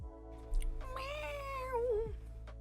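A single house cat gives one long, drawn-out meow close by, rising and then sliding down, over a quiet steady hum.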